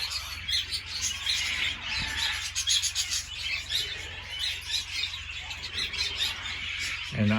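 Budgies in an aviary chirp and tweet continuously, a busy flock of overlapping bright calls close by, with faint rustling beneath.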